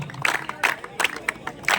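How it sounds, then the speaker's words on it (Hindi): An outdoor crowd at a kabaddi tournament final in Bijnor applauds to welcome the guests, with dense, uneven clapping in bursts under an announcer's voice on a loudspeaker. "सभी हमारे अतिथिगण शानदार तालियों से स्वागत होता हुआ तमाम अतिथियों का"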